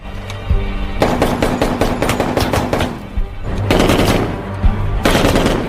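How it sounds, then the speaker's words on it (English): Gunfire in a film scene at a shooting practice range, loud close bursts of rapid shots in two clusters with a steady background rumble between them. "While practicing his shooting skills, Rap also cannot control his emotions and shoots at someone else's shooting board"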